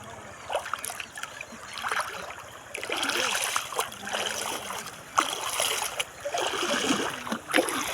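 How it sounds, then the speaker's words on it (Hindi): The Sankri river runs fast and knee-deep, giving a steady broadband rush with splashes and gurgles close by throughout. "ये देखिए घुटनों तक पानी है नदी में और काफ़ी तेज़ बह रही है"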